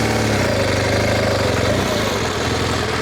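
An adventure motorcycle engine held on light throttle while climbing a steep hill, a loud, steady mid-pitched drone with a slight rise in revs partway through.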